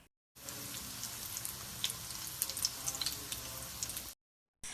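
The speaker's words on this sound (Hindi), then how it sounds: "और फिर हम कर लेंगे फ्राई इन्हें" Aloo chicken kababs coated in egg and bread crumbs frying in oil: a continuous soft sizzle dotted with small crackling pops, with no talking.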